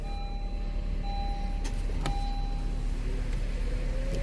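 A car at a Copart salvage yard in Las Vegas idles after being started with a key, a steady loud low engine rumble under a faint whine, with a couple of brief clicks.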